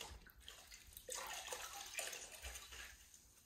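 A sponge is dunked and wetted in a bucket of water, giving soft sloshing and trickling splashes in a few quiet bursts, close by with no talk.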